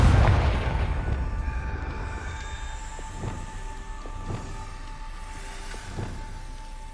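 Confringo blasting spell cast in Hogwarts Legacy, heard as several sharp bursts about a second apart over a steady game ambience with sustained tonal music.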